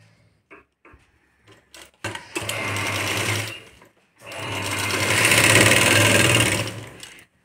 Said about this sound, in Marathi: आणि या प्रकारे इथे शिवून घ्यायचं.